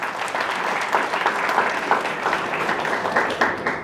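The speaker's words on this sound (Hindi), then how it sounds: "सभी ऑडियंस का जोरदार तालियां एक बार हो जाएं।" A talk-show audience on World Disability Day claps loudly and continuously, a steady wash of hand claps with no voices.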